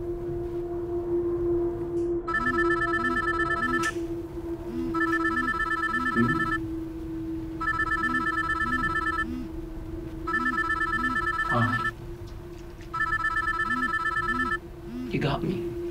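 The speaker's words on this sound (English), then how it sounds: "Why is Mama T's number ringing in your bag?" A mobile phone rings from inside a bag, with repeated bursts of electronic ringtone in a steady pattern over a low hum, muffled but clear, and voices talking underneath.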